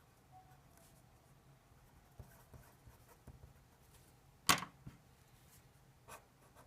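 A pen scratches faint short strokes across paper as a hand sketches a free body diagram, quiet intermittent scribbles with one sharper louder stroke partway through.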